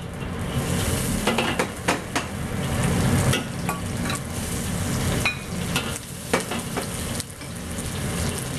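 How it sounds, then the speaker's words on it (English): Onions and seasoning browning in a pan for Cantonese shrimp chow mein make a loud, continuous sizzle throughout, with scraping stirs and occasional clicks of a utensil against the pan. "we're gonna brown the onions and the seasoning first"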